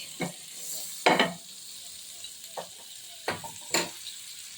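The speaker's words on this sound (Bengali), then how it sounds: "কড়াইতে একটা তাবা বসিয়ে দিয়েছি দিয়ে একটু বাটার দিয়ে দিচ্ছি আর এবার এতে স্লাইস পাউরুটিগুলো একটু সেঁকে নিচ্ছি" Buttered bread slices toasting on a tawa set in a kadai, giving soft sizzling bursts with a few louder scraping stirs and utensil touches, close and alone without talk.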